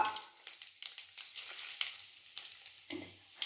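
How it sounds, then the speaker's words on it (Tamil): Mustard seeds, asafoetida and dried chillies tempering in hot sesame oil for a Tamil tamarind soup: a steady, fairly faint crackling sizzle with scattered sharp pops and spatters, heard alone with no voices. "நல்லெண்ணெய் தான் ஊற்றி தாளிக்கணும். இதுக்கு கடுகு, பெருங்காயம், காஞ்ச மிளகா,"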